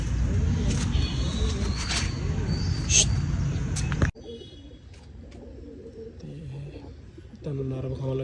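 Sale pigeons in Tarn Taran give soft coos that sit under a noisy stretch with someone talking. The sound drops to a quieter scene partway through, where faint cooing goes on.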